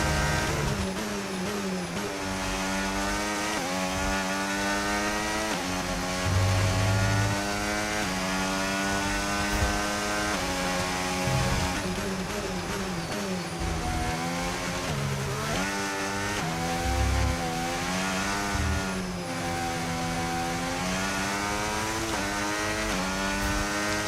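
Race car engine in the F1 25 video game running with a worn, degraded engine, a loud continuous harmonic drone with rising and falling revs and no pauses throughout.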